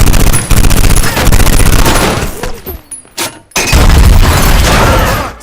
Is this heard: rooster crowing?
no